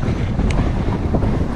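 Steady wind buffets the microphone on a cold stretch of the US Pacific coast, a dense continuous low roar with gusty swells and no voices.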